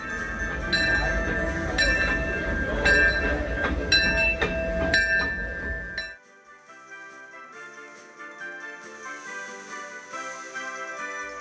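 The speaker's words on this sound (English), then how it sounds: "We took the train back to Bayou Country" A Disneyland theme park train rumbles along with rhythmic clatter and a tonal hum, loud at first, then quieter and muffled as it continues running.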